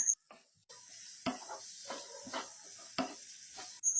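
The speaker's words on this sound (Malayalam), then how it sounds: "ഇനി തുടരെ ഇളക്കി നമുക്ക് ഈ സവാള ഒന്ന് വഴറ്റിയെടുക്കാം." Sliced onions sautéing in a pan with salt, a steady close sizzle broken by a few scraping strokes of the stirring spoon, with brief quiet gaps at the start and end.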